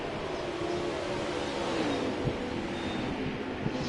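Race cars battling in a tight pack at Sonoma Raceway in the Giggity Cup Series, a steady blended roar of engines with wind buffeting, continuous and fairly loud with no talk.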